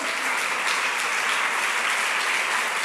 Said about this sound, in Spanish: ¿Qué tal si le damos un aplauso grande al Señor?